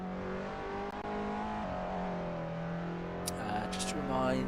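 Onboard a Formula Student race car, the engine whines steadily at high revs and then rises as it accelerates, with a commentator talking over it.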